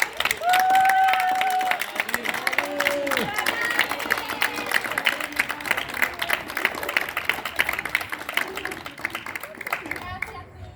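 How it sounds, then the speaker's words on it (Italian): A crowd claps and cheers at a kindergarten carnival party in Gemona del Friuli, the dense clatter of hands running continuously over lively voices and a brief sung tone at the start, fading toward the end. "Facciamo un applauso a tutti quelli"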